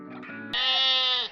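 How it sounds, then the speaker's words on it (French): A single goat bleats up close, a short wavering nasal cry preceded by a softer lower call. "Même les chèvres."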